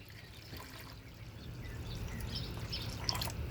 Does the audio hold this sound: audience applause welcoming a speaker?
no